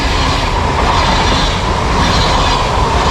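A train roars past at close range, a loud, steady rumble with rail clatter and a bright metallic ring that holds through the whole stretch with no talk over it.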